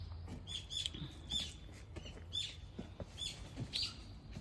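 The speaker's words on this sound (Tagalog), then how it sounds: "Ang daming ibon." Many birds chirp and tweet in short repeated calls from around an outdoor fruit garden, fairly faint over a low steady background hum, with no talking.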